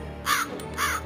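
A cartoon crow gives two loud, harsh caws in quick succession, close and clear, with no talk.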